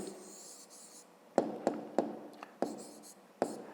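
A pen scratches out an answer on paper in a quiet room, a few soft strokes followed by a handful of sharp taps and short scribbles, close and faint.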